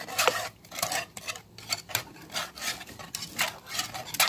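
A utensil steadily scrapes and stirs carrot and chocolate cake batter in a bowl, producing continuous rhythmic rubbing and clinking strokes up close, with no voices.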